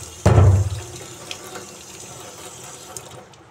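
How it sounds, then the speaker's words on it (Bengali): A kitchen sink tap gushes on suddenly as vegetables such as papaya and bottle gourd are washed, then settles into a steady, close running-water hiss that lasts throughout with no talking. "এবারে সব ধুয়ে রেখে দিই।"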